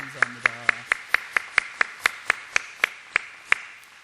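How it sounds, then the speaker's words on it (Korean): Steady, evenly spaced claps, about fifteen sharp beats in unison, from a church congregation welcoming missionary guests from India, with a brief voice at the start. "박수로 한번 뜨겁게 환영하겠습니다"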